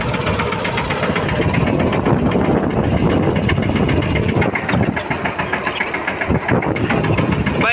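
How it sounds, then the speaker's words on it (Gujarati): A Captain tractor engine runs in a neighbouring farm field, giving a steady, loud, knocking diesel drone that continues without a break and with no voices over it. "અત્યારે અમારા બાજુની વાડીમાં ટ્રેક્ટરી હાલે છે"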